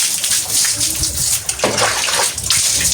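Water splashes and sloshes steadily into a tub or basin to soak things at home, a continuous broadband rush with brief splatters throughout.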